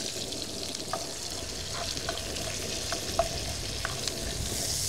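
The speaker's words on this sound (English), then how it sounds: "I'm gonna stir up the brown bits that are in the pot." A spoon stirs onions and browned bits in a Dutch oven over a low sizzle, with a few faint scrapes against the pot, heard outdoors with wind noise behind it.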